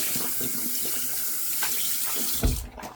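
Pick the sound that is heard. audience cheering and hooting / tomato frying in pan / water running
water running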